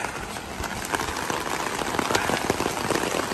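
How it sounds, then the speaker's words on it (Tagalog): Steady rain pours down at a rowhouse construction site, a dense, continuous hiss of drops pattering on surfaces with scattered sharper splats throughout. "Ayan na nga, bumagsak na yung ulan."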